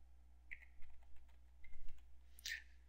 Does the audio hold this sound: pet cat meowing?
no